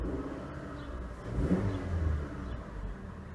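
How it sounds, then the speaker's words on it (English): A 2019 Toyota RAV4 LE engine revs quietly from inside the cabin, swelling once to a short peak and then easing back to a low hum. "we'll go ahead and we'll rev it"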